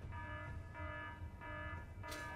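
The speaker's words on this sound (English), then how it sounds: "That alarm is really quiet" A quiet electronic alarm in the space-building game Space Engineers pulses as a repeating harmonic tone in roughly three beeps, steady and low in level against background game ambience.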